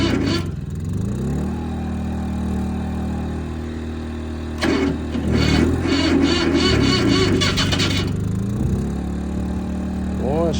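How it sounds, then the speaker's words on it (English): A cold Chinese Jinma Farm Pro tractor engine cranks over and over at 17 degrees on a boosted battery, loud and labored, dragging under a generator running nearby; a voice speaks briefly. "this is attempt number 2 to start the Chinese tractor"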